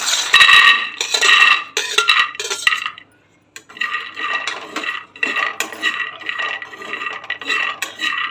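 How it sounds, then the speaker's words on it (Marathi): Peanuts dry roasting in a hot pan rattle and scrape loudly as they are stirred in repeated close bursts, with a brief pause partway through and no talking. "पॅन गरम झालेल्या शेंगदाणे भाजून घेऊया"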